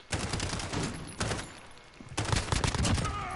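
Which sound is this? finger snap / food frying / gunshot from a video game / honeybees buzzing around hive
gunshot from a video game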